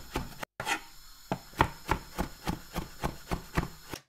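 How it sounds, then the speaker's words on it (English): Steady knife chopping garlic on a wooden board, about a dozen crisp close strikes in an even rhythm, with no talking. "me chopping some garlic"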